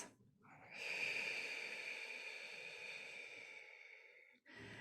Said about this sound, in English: these are breaths with longer exhalation